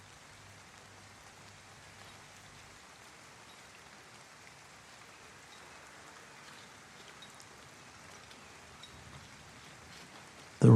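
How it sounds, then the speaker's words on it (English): Steady rain falls evenly and softly for the full stretch with no voices, a constant wash of drops ending in a brief louder burst at the very end. "The rain falls as steadily as the beating of distant drums on a plaza"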